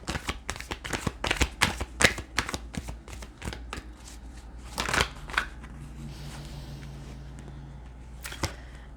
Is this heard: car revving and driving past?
no